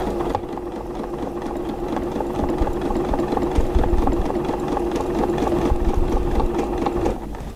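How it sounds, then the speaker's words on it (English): A sewing machine stitching a quilt along an appliqué square edge runs in a steady, loud, close mechanical hum with rapid needle clatter for about seven seconds before easing off. "So now I'm just going to sew sideways."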